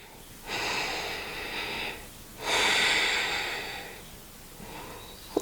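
Deep, slow breaths drawn in and pushed out during a hip-mobility stretching routine, two long loud exhalations with a shorter one starting at the end, close and alone with no talking.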